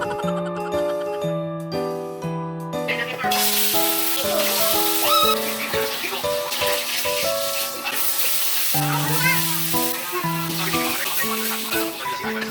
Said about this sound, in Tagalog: Naluto ko na nga rin mga mi itong tilapia at ito nga ang ulam namin ngayong gabi.